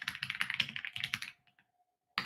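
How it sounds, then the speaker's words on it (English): Clacky computer keyboard typing in a quick burst of close, bright key taps lasts about a second and a half, then a brief pause before more keys resume. "Sorry, you have to hear my clacky typing."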